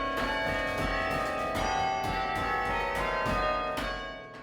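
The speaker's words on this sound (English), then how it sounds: "I've been playing the chimes" Tower chimes ring out from the bell tower at Cornell, a steady run of bright overlapping bell tones playing a tune, loud and sustained throughout with long ringing decay and no voices.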